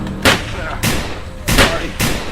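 Gunshots in a first-person horror film, four sharp loud reports spaced about half a second apart, each with a short rumbling tail.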